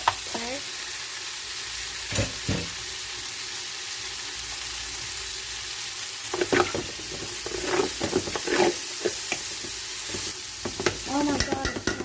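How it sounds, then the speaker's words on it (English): Peppers and onions sizzle steadily in a pot for a split pea soup with smoked turkey tails, with scattered scraping stir strokes bursting through the hiss, louder toward the end; no talking. "we're going to go ahead and put in our peppers and onions"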